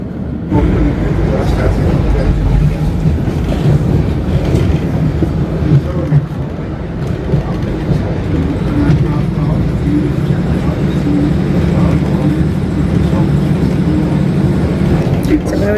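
Constant low rumble and rattle from inside a moving train, a steady rolling drone with faint murmuring in the background.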